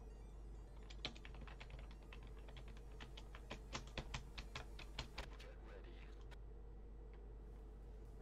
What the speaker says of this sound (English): I just hit buttons on my keyboard